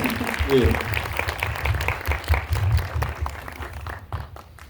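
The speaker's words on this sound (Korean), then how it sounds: "박수를 좀 쳐주시죠" Audience at a Busan International Film Festival screening Q&A applauds a cast member who stands to greet them, a short burst of clapping that fades away, with a voice talking over it.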